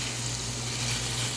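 Onions sizzle steadily in a hot pan while deer steak is being cooked, a continuous close frying hiss with a low hum underneath and no voices.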